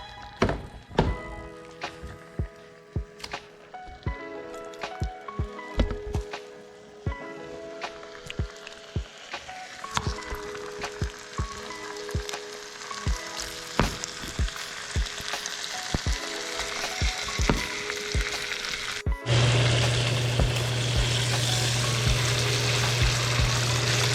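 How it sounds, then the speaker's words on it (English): Marinated beef steak sizzling on a hot pan, a steady frying hiss punctuated by frequent sharp thunks and clatters of the meat and utensil, growing denser and louder toward the end. "Place the marinated beef steak on the hot pan."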